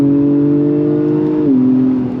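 A 2025 Acura TLX Type S sedan, fitted with all-season tires, accelerates under throttle with a steady, loud engine drone that holds, then drops in pitch with an upshift before building again.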